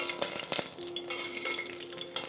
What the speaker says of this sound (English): We'll just slightly fry the onion in the oil